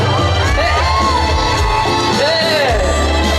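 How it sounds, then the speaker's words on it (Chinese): Concert crowd at an outdoor tourism festival stage in Hualien screams and cheers continuously, loud and close, with musical tones and a voice over the noise. "再来点尖叫声， 我听一下。"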